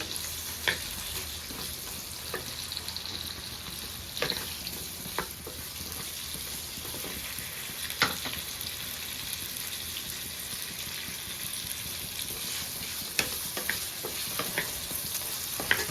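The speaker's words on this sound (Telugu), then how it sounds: "చూస్తున్నారు కదా, టమాటాలు సగం వేగినవి. ఇప్పుడు పచ్చి మామిడికాయ ముక్కలు కొన్ని," Tomatoes and raw mango pieces fry in a pan for a mango and coconut chutney, giving a steady, quiet sizzle with occasional soft pops and clinks throughout.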